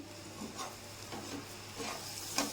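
Jaggery syrup being stirred into the filling for kajjikayalu sweets, with soft scraping strokes and faint sizzle repeating every half second or so, quiet and close.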